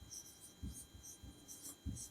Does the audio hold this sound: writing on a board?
yes